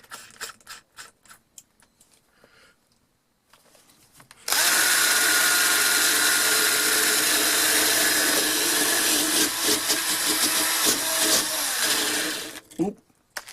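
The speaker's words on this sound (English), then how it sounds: "I'm going to have to use the wire brush in there." A wire brush spinning on a power drill scrubs a vintage hand drill, a loud continuous harsh whir lasting about eight seconds, after scattered light handling clicks and before it cuts off abruptly.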